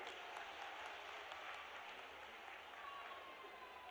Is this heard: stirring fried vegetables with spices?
no